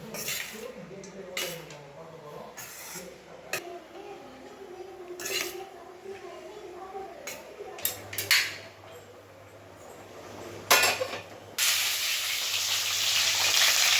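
Mustard seeds, cumin and fenugreek crackle and sizzle in hot sesame oil, with clinks of utensils on a pan and intermittent talking; the sizzle swells loudly near the end.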